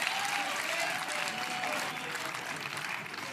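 Steady applause from a pickleball crowd at a doubles match at the Carvana Masters fills the whole stretch, dense and close, easing slightly toward the end.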